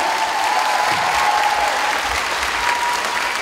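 An audience applauds a dance studio at an anniversary evening of the Zonta club in Alytus, a loud, even wall of clapping that holds steady without a break.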